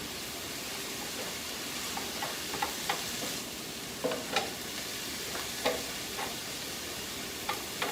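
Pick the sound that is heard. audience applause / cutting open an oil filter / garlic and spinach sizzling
garlic and spinach sizzling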